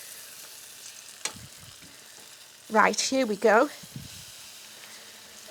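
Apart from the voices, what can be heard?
food frying in olive oil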